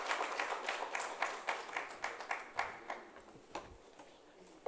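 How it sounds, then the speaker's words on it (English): Scattered applause rises from a conference audience at a live-streamed student financial aid event. Distinct individual claps sound over a moderate wash, then taper off to a few sparse claps. "Please give him a very warm round of applause."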